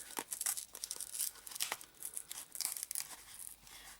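Plastic packaging on a Dragon Ball card game starter deck is torn open close up, with quick rips and crinkling crackles coming in irregular bursts, fairly quiet overall.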